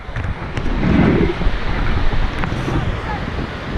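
Pacific Ocean surf and gusting wind along a San Francisco Bay shoreline, a steady roar of waves with buffeting wind on the microphone and a low rumble of breaking water.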